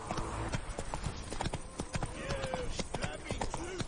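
Roach, the horse in The Witcher game, gallops with a steady, close clip-clop of hooves and a brief whinny. A rider's voice calls out over the hoofbeats.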